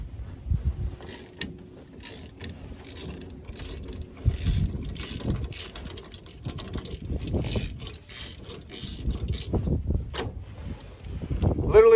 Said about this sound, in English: Got the puller on, got the bolts on, got it started